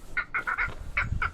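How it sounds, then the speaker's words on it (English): Seabirds squawk over the water near an island with a shelly oyster bottom, a rapid series of harsh, nasal honking calls in short bursts, moderately close and fairly faint, with no talking. "I can hear some birds squawking at me here."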